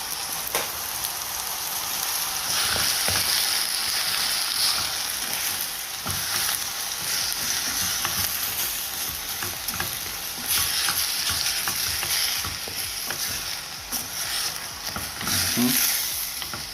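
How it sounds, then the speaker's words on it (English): Seasoned food, callaloo with okra, stirred around a frying pan, giving a steady broadband sizzle with scraping stir strokes throughout, close and fairly loud, no talking. "Mix him up proper."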